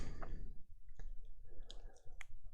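A single mouse click on a create project button in enterprise software, heard as a sharp isolated tick with a few other faint clicks against quiet room noise.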